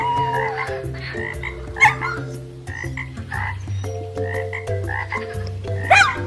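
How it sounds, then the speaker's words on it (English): Frog croaking in an animated children's story, a loud, repeated rhythmic croak layered over steady background music, with no speech. "And the frog says, how do you do?"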